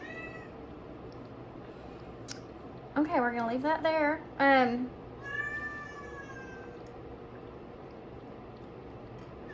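A house cat meows several times in quick succession, close and fairly loud, in a quiet room after something falls off a window; a person talks before and after the meows.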